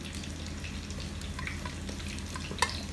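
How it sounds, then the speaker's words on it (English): Curry fried rice frying in a pan, a soft continuous sizzle with faint stirring and one brief clink near the end, heard alone without speech. "Let's make curry fried rice."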